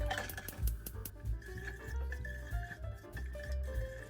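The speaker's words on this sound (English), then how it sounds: "Add water, then turn on medium heat." Water is poured into a pot holding crushed rapadura sugar, a steady close trickle and splash with a faint metallic ring, continuous for a few seconds with no talk.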